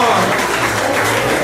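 Crowd at a Cedar Valley event applauding and cheering, dense continuous clapping close by with voices mixed in, steady throughout.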